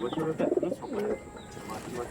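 Andhra pigeons brought from Andhra Pradesh coo in soft, rolling, close calls, a few overlapping phrases over a faint room background.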